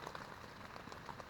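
Steady rain falling outdoors, a faint, continuous patter of drops on surfaces with no pauses or other sounds.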